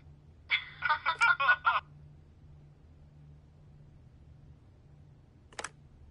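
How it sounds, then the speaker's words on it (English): A telephone rings in the video game The Wolf Among Us: a short burst of rapid electronic trilling ring pulses over a quiet low hum, followed by a brief faint click. "The phone rings off the hook sometimes."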